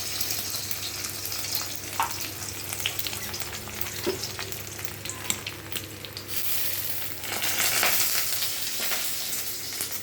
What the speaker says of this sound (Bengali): দিয়ে ডিমটা ভেজে নেবেন